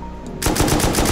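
M2 machine gun in the game Rust opening up in a loud, rapid burst of close automatic fire that starts abruptly and keeps going steadily, after a brief quiet moment.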